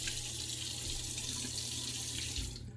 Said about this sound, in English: My face, I'm gonna wet it a little bit more.